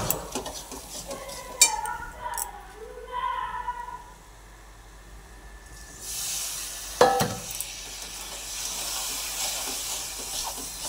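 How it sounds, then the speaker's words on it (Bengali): Chicken curry masala with Kashmiri chilli powder is stirred and fried in a pan, with several sharp utensil knocks and scrapes. A steady hiss of frying rises during the second half. "সব কিছু দিয়ে ভালো করে নাড়াচাড়া করে নেব। ভালো করে মশলাটাকে কষাবো।"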